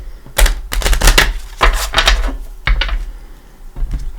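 Major arcana tarot cards are shuffled close up, loud rapid clacking and slapping in bursts with brief pauses, a dense, crisp rattle throughout.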